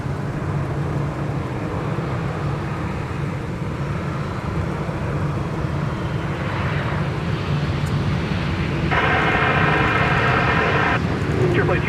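Jet airliners, including a heavy KLM flight from Amsterdam, arriving at Minneapolis–St. Paul Airport on a winter afternoon produce a steady, broad engine roar that swells slightly toward the end, with a brief tonal whine near the close.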